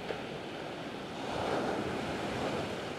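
Ocean waves washing up on a beach during winter fishing, a broad continuous surf roar with wind noise that swells slightly midway, close and steady, with no talk.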